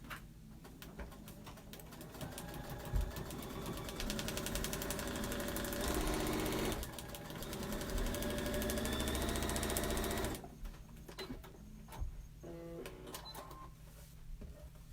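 A sewing machine stitches a quilt block with a steady, fairly loud mechanical whir that runs for several seconds, pauses briefly, picks up again, then stops for a few short bursts of handling near the end.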